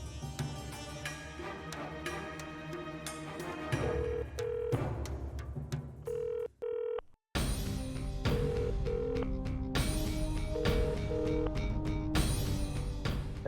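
A phone call to a cell phone being dialed comes through as short electronic dialing tones and ring beeps, repeated in bursts under background music and drama sound, fairly faint.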